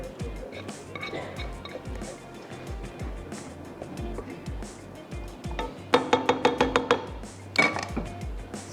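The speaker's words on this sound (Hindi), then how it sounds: "इसमें हम शामिल कर देते हैं जनाब ये जो हमने कोरमा तैयार किया था ये हमने ऐड कर देना है" Prepared beef korma spooned onto boiled rice in a pot for biryani, with wet plops and a quick run of metal clinks from the utensil, heard close under a speaking voice.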